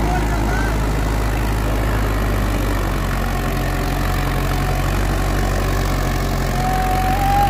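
Mahindra Arjun 605 tractor engine running at a steady, loud idle-like drone, a constant low rumble close by throughout with no pauses.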